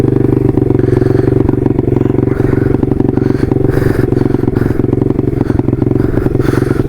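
A 150cc motorcycle rides along a bumpy dirt trail, its engine droning loud and constant right at the microphone with rattling and clatter from the rough ground.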